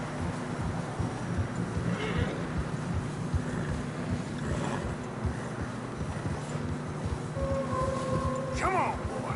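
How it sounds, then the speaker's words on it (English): Tired horses trudge through deep fresh snow in Red Dead Redemption 2, with soft irregular hoof thuds, a snort or whinny near the end and wind noise throughout, under a steady outdoor backdrop. "Horses are getting tired."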